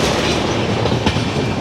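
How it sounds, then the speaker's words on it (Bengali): The Howrah Balurghat Express rolls around a curve, heard from on board as a loud, continuous rumble with rhythmic wheel clatter over the rails. "এখন আমাদের ট্রেন একটা সুন্দর কার্ভ নিচ্ছে, অপূর্ব লাগছে, অপূর্ব। পুরো ট্রেনটা ঘুরছে দেখুন"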